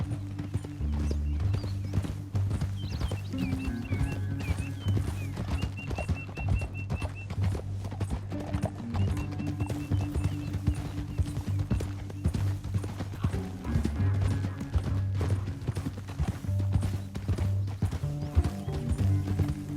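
Horses gallop with steady clip-clop hoofbeats in Red Dead Redemption 2, riding through a canyon, with a low rumbling score underneath and an occasional whinny throughout.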